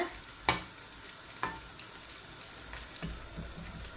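Sago vadas fry in hot oil, a soft, steady sizzle with a few sharp clicks from a utensil near the start.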